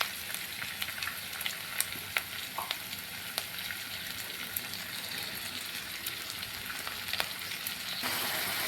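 Onions, green chilies and small chicken pieces frying in a pan, a soft, even hiss of sizzling oil with scattered faint crackles and occasional light stirring taps, no one speaking.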